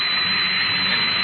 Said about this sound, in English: Turn on the drill with the tread stationary.